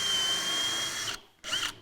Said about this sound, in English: Pre-drill.